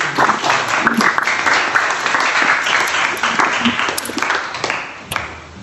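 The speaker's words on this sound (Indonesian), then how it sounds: "tepuk tangan dulu untuk" A class of students claps together during a classroom lesson, a loud, busy round of applause lasting several seconds before tapering off near the end.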